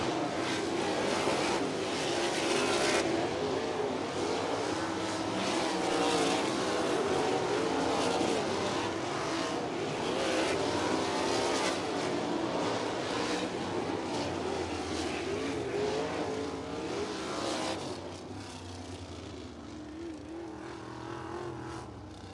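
A sprint car at Circle City Raceway roars through dirt track hot laps during USAC Indiana Sprint Week. The loud, continuous engine howl rises and falls with throttle, then eases and fades toward the end.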